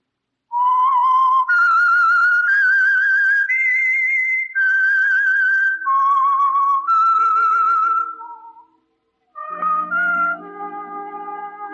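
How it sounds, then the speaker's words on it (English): A lone, loud, clear whistled melody rises and falls through a run of sustained notes, pauses briefly, then resumes, with soft orchestral tones entering underneath, as the signature signal for The Whistler radio program. "That whistle is your signal for the Signal Oil program, The Whistler"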